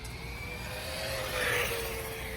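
A Losi Promoto-MX RC motorcycle running at half throttle, giving a steady high electric whine that swells slightly in the middle, moderately close over a constant outdoor background.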